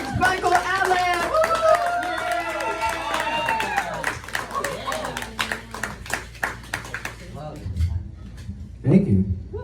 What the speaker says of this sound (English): And that means clap uproariously